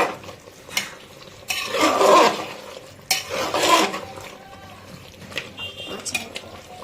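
A spoon stirs ginger-garlic-chilli paste into mutton curry in a pot, giving two or three scraping, sizzling sweeps against the metal with quieter gaps between them.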